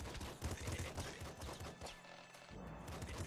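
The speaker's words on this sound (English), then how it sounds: "And they just keep shooting you." Rapid enemy gunfire and bursting shots crackle through a Nuclear Throne fight, a steady rattling barrage at moderate, somewhat muted volume with a brief lull before resuming.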